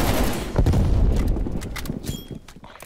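A frag grenade blast in Call of Duty Black Ops Cold War, opening with a loud crack and settling into a rumbling, debris-filled tail mixed with scattered gunfire, fading over a few seconds.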